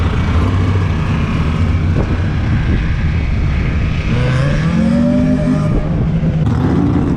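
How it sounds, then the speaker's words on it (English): A 1961 Corvette gasser on big Hoosier full slicks launches hard at a drag strip, its engine roaring loudly and rising in pitch as it accelerates away. "this 61 Corvette's doing all kinds of wheelies"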